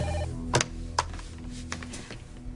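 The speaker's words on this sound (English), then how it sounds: "you'd think somebody would answer the phone" A telephone rings indoors in a drama scene, with short tonal ring bursts and a few sharp clicks over a faint background bed, fairly quiet and without speech.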